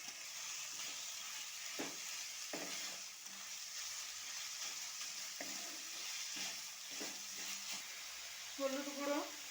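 Ground chicken sizzles and fries in a pan with chopped onions, salt and crushed ginger-garlic, with steady hiss and occasional stirring scrapes at close range, and no talk.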